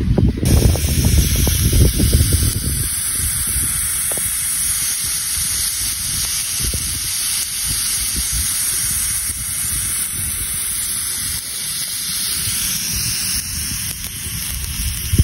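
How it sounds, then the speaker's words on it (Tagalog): Adobo boiling in a bamboo tube over an open fire, steady loud hissing and sizzling with crackling pops, liquid bubbling and steaming, continuous and close throughout. "check natin pag kumukulo na mga pare ko."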